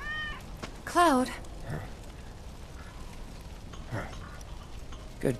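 Cat meowing in the video game Final Fantasy 7 Remake, two or three short wavering meows spaced across a few seconds, clear and close over a quiet ambient background, with voices speaking around them.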